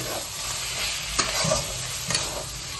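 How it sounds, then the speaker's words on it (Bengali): A dish finished with chopped coriander leaves is stirred in a hot pan, giving steady sizzling frying with a few scraping stirs of the spoon, close and without talk. "ধনেপাতা দিয়ে আমরা ভালো করে সম্পূর্ণটাকে নাড়িয়ে নিচ্ছি"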